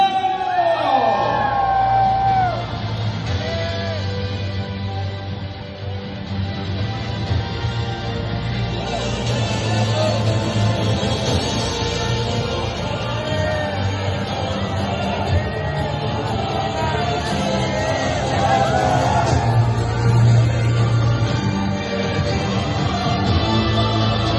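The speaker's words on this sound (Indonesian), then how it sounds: "sekali lagi kita jerit kuat-kuat untuk Baim Wong, Kiana dan Kenzo" A crowd at a film premiere at GSC Mid Valley screams and cheers loudly for the actors, with shouts and whoops running continuously beneath an amplified host talking and music.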